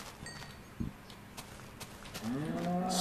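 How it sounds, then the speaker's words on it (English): A cow moos in Minecraft, a loud, low, drawn-out call near the end that follows quiet footsteps and a soft thump, with no talk. "Oh, look! It's cows!"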